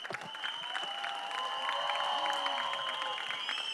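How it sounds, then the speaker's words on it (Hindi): Audience applause with some cheering at a film teaser launch event, a continuous faint wash of clapping heard from a distance beneath tonal background music. "वो तालियां बजाएं."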